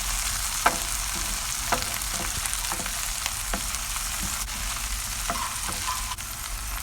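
Two cut tomatoes sautéing in a pan with curry leaves: a loud, continuous frying hiss with intermittent stirring taps and scrapes, and no one speaking.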